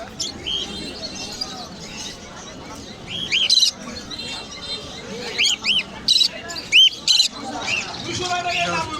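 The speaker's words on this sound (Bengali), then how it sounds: "অনেকগুলো ককাটেল একসাথে একটা ছোট খাঁচার মধ্যে দেখতে পাচ্ছি।" Cockatiels and finches chirp and squawk from crowded cages at the Mirpur bird and pigeon market. Sharp bursts of calls break through the steady crowd babble and nearby talk.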